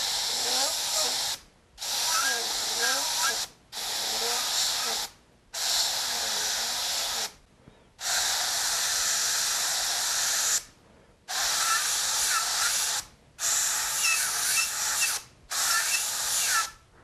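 An airbrush sprays paint onto a dagger in repeated bursts of steady hiss, each lasting one to three seconds and separated by short silent gaps. The spray is close and loud, with no talking.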